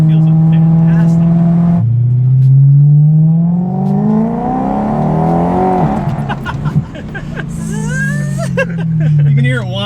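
A supercharged BMW M3 engine winding up loud and close, a rising whine that climbs steadily through the revs, eases off, then builds again, with brief voices in the background.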